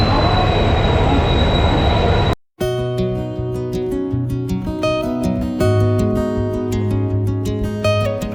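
A train at Howrah station, the Chennai Mail, with steady rumbling and squealing wheels under a broad noisy wash, broken by a brief cut, then resuming with a continuous tonal hum and clanks close by.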